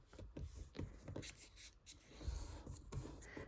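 Paper being folded by hand while making a small ephemera pocket holder: soft, quiet creasing and rubbing sounds with a few light taps, close up and without talk.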